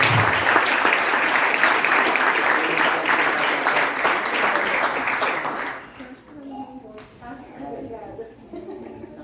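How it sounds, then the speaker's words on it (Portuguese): Applause from a church congregation fills the room as one broad, sustained wash of clapping, fading out after about six seconds into scattered voices and murmured talk. "Com uma seguida linda salva de palmas a elas."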